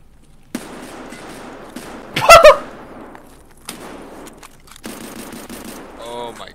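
Video game gunfire rings out in a short, sharp burst of rapid shots, with scattered single bangs and clicks around it.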